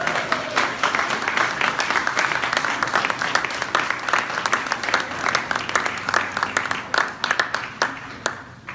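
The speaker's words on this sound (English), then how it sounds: "Lane Townsend, would you please wave your hand and give her a round of applause?" Applause from an audience at a theater reopening, dense clapping sustained throughout with some crowd murmur beneath, fairly close and steady.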